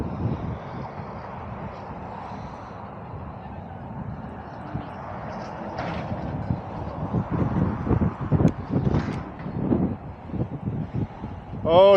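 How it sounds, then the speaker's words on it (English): Steady wind buffets the microphone throughout an e-bike ride along the Columbia River in Wenatchee, a broad rushing roar with gusts that swell louder toward the end. "Don't know how strong the wind is this morning, but it's blowing."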